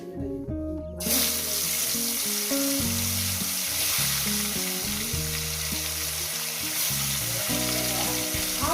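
Silver carp pieces hit hot oil and burst into loud, continuous sizzling and spattering that holds steady after a sudden start, with clanks of a utensil and background music beneath.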